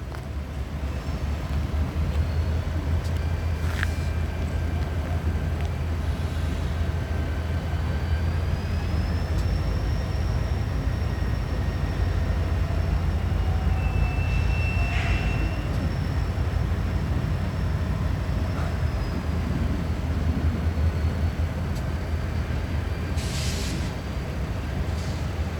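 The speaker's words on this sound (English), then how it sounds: "And here comes the Norfolk Southern with a Union Pacific locomotive as well." A Norfolk Southern freight train with a Union Pacific locomotive passes near a rail yard in Jacksonville, a steady loud rumble of rolling cars running throughout with faint squeals and a distant horn-like tone overhead.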